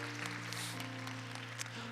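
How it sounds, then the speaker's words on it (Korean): Church congregation clapping to welcome newcomers during a Sunday worship service, a sustained, moderately loud patter of many hands over a steady hum from the hall's sound system. "오늘 처음 나오신 분들을 우리 박수로 환영할까요?"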